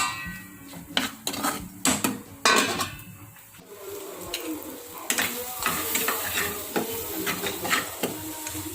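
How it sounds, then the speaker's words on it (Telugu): Prawns fry in a pan for Andhra gongura prawn curry, giving a continuous sizzle broken by sharp clinks and scrapes of a utensil against the metal. "ఈ రొయ్యలు కాస్త వేగినవి"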